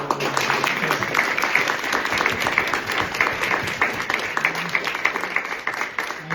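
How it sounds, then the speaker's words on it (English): An audience applauds steadily after a talk at a land blessing weekend, a dense, continuous wash of many hands clapping at moderate loudness throughout, with some faint voices mixed in. "Can we give them a round of applause?"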